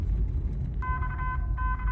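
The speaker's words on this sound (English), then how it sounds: "the storm sirens go off in Colonial Heights." Storm warning siren in Colonial Heights sounding from a distance, a steady two-tone wail rising in over low wind rumble and continuing for the rest of the moment.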